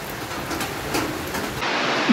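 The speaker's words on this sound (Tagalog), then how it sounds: "Lakas po ng ulan, pero ay hangin." Heavy rain pours during a typhoon in a dense, steady hiss, close and loud, with no voices.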